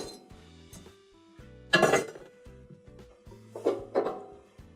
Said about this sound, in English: next we'll start to remove our cooktop by taking off the grates,